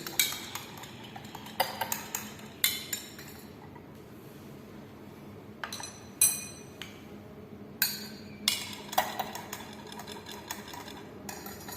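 Glassware being stirred during an iron limit test in a lab, with repeated sharp glass clinks and tinkles in irregular bursts over a quiet background hum, close and fairly bright.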